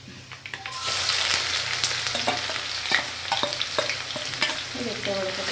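Crushed green chili, shallots and ginger sautéing in a pan for a Wayanad-style bottle gourd curry: a loud, close sizzle that bursts in and holds steady, broken by sharp stirring scrapes and taps.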